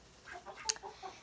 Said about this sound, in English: I feel like that's a rooster.